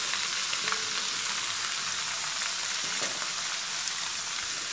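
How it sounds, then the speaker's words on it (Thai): Pork fat rendering in a frying pan with a little water and salt, a steady, dense sizzle that holds evenly and close throughout, with faint scattered pops and no voices. "แล้วทีนี้เราก็จะเจียวไปเรื่อยๆนะคะ"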